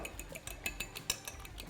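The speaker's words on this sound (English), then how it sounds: "we're gonna give them a little beat" Eggs beaten in a bowl with a utensil for a smoked yellow squash casserole, giving a quick run of light clinks and taps at a steady rhythm, close and fairly quiet.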